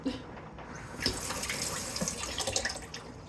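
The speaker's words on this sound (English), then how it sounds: "picking that up off the floor and rinsing it off" Dropped pieces of cooked spaghetti squash are rinsed under a running kitchen tap, a close, steady gush of water splashing into a sink with small clatters throughout.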